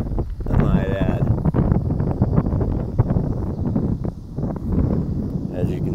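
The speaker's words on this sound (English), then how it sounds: "it's really windy again, so good thing I had my headset on" Low, rumbling wind buffeting a headset microphone on a very windy day, steady and loud throughout, with muffled voices underneath.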